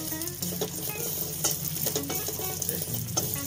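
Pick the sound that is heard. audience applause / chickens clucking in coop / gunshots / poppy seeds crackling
poppy seeds crackling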